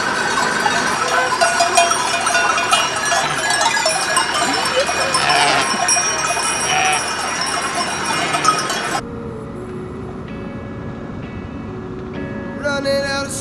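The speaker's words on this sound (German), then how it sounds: "Ziegen sind auch dabei." Herd of goats wearing bells on a road, a dense jangle of clanking bells mixed with bleats, loud and close, dropping away suddenly near the end to quieter background.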